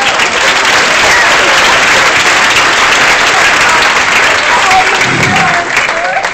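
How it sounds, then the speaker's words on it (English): Loud, sustained applause from a live audience at a college hypnotist show, a dense wash of clapping that holds steady for several seconds before easing slightly near the end. "Let's give a round of applause"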